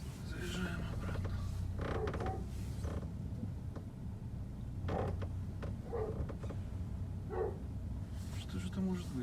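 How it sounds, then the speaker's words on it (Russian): Creaking inside the cabin of a 2020 Skoda Kodiaq with an empty boot, repeated short squeaks and groans from trim over a low road rumble while driving, with a person talking intermittently. "Даже при пустом багажнике все скрипит."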